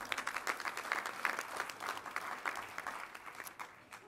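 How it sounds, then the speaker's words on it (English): Sustained audience applause at a President's Council on Fitness, Sports and Nutrition member meeting, dense steady clapping from a crowd lasting several seconds at moderate level and tapering slightly at the end. "Round of applause for the President."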